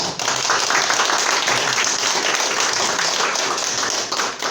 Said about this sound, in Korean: 우리 저희 교회 처음 오신 분들을 위해서 다시 한번 환영의 박수